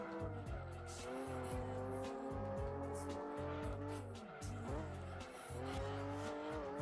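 Race car in Gran Turismo 2 spinning out, tires squealing in long wavering shrieks over a steady engine drone, with repeated skid bursts throughout, near and sustained.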